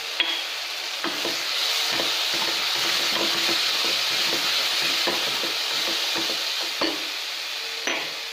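Onion, tomato and spices frying in a pan for a chickpea biryani, with a steady close sizzle throughout and a series of light, irregular scrapes and taps as a spoon stirs the mixture.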